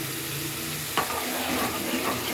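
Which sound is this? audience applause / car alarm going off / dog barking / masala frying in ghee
masala frying in ghee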